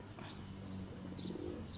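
Soft, low pigeon cooing murmurs through the whole stretch, faint and steady against a hazy background, with no voices.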